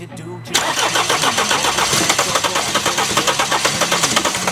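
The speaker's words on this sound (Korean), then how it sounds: "이렇게 걸리듯 하면서 시동이 안 걸립니다" A 2016 Mercedes CLS with a 651 diesel engine cranks steadily with a rapid rhythmic churn, catching as if about to fire but never starting, loud and close throughout.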